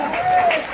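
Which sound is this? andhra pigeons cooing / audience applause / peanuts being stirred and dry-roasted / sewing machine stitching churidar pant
audience applause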